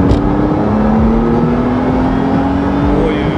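A Marussia sports car drives and accelerates with a loud, steady engine drone whose pitch climbs gradually, heard from inside or close by.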